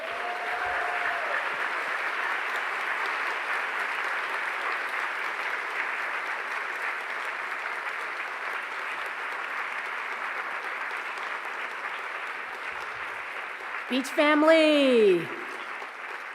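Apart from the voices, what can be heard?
convocation audience applause for new president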